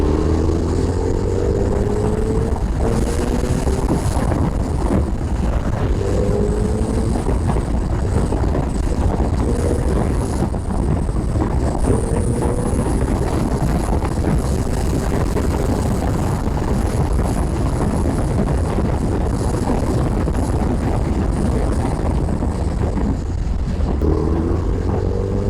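Suzuki Hayabusa motorcycle on a ride, steady engine drone with rising and falling gear tones under constant wind rush at the microphone, loud and continuous throughout.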